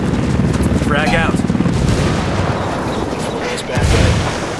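Frag grenade explosions in Ghost Recon Wildlands, loud booming blasts and gunfire in a dense, continuous combat din, with a heavy detonation near the end.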